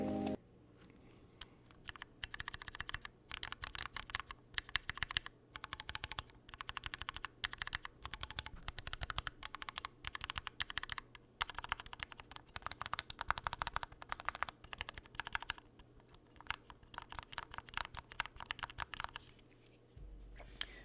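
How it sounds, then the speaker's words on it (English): Rapid, steady typing on a mechanical keyboard fitted with silent MX switches, giving soft, muted keystroke clatter in quick bursts with brief pauses, quiet and close with no talking. "so you can see there it's the silent MX switches"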